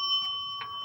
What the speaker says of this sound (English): There's your bell when you get a strike or a spare.